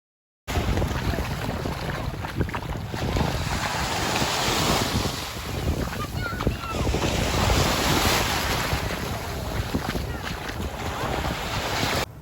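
Sea waves wash in at Korian Beach in Karachi with a continuous roaring surf, rising and falling swells, and gusts of wind buffeting the microphone nearby.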